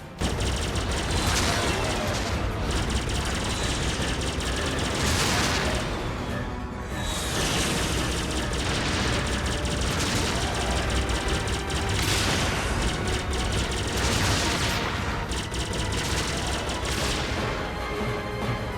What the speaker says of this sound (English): I can fly in my fighter and shoot people out of the sky